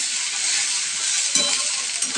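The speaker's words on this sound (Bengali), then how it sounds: "আলুটা আমি 5 মিনিট ভাজতে থাকবো, 5 মিনিট ভাজবো।" Potatoes fry in a pan on low heat, a steady close hiss and sizzle with a faint stir or two, no voices.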